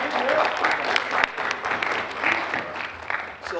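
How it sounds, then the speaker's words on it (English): An audience at a youth empowerment forum claps in a brief round of applause, uneven and moderately loud, with a voice talking over parts of it. "Give a round of applause."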